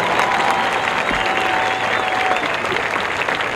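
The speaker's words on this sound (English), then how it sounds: "Let's give them one more round of applause." A crowd applauding a marching band at a school pep rally, dense clapping holding at a loud, even level throughout with a faint whistle.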